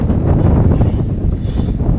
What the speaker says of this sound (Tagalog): Grabe, lakas hangin.